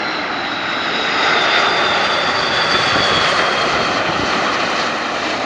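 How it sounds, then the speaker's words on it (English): A KLM Airbus A330 jet airliner arrives at Montreal, its engines a loud, steady roar that swells slightly and holds throughout, with no voices. "No, KLM. Earlier arrival, A330."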